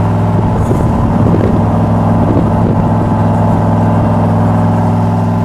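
A blue 1967 Chevrolet Corvette with a 327 cubic-inch engine and 4-speed drones loud and steady from inside the car on a ride near Saratoga Lake, its low throbbing exhaust holding an even pitch throughout.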